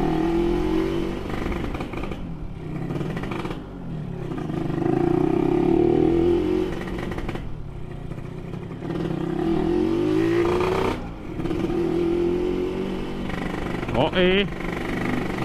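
A motorcycle engine fitted with a Killer Whale road-race exhaust revs repeatedly up and down close by in a narrow alley, its exhaust note rising in pitch with each throttle blip, with a voice talking over it.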